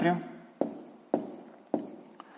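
Pen or chalk taps and strokes while a maths solution is written down, three sharp marks at even intervals, close and quiet, following a brief bit of speech at the start.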